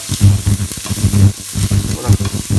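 Crushed currants stirred into onions cooking in a pan, with close, loud pulsing scrapes and shuffles in a quick uneven rhythm over a light sizzle, no voices.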